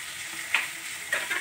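Chopped onion, a very large one, frying in a pan for a radish sabzi: a steady low sizzle with two sharper bursts of crackle as the pieces are stirred, no voices.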